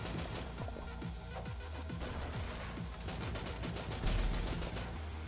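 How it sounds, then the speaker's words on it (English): Dense video game combat from a twin stick shooter, with grenade blasts and rapid gunfire layered over a continuous loud soundtrack and a heavier thump near the end. "these grenades are doing work"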